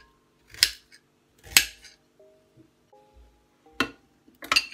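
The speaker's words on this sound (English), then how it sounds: "I'm gonna be slicing the ginger to help the blender process it" A knife slices through fresh ginger root in a home kitchen, giving about four crisp cutting strokes spaced irregularly, close up, with faint clinks and quiet pauses between them.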